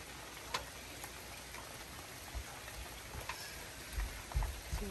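Steady rain patters on a surface, with scattered louder drops and soft thuds over a constant hiss.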